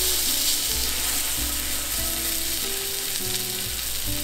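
Loud, steady sizzle of lamb chops searing in olive oil in a hot pan, a dense continuous frying hiss close up with no talking.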